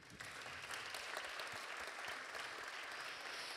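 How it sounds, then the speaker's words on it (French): An audience claps steadily for a speaker invited on stage at a university panel on civic engagement, with dense, even applause filling the whole short stretch. "Merci de l'applaudir."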